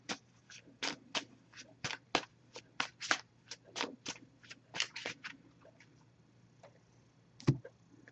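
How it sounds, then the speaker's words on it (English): A deck of oracle cards is shuffled by hand in quiet, close, crisp bursts of flicks and taps with short pauses between them. "I'm going to give this a few shuffles."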